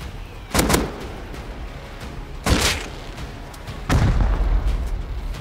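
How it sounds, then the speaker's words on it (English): Three separate booming gunshots in the Rust survival video game, each a loud, close blast with a short rumbling tail, spaced roughly two seconds apart, with no voices over them. "That was me shooting"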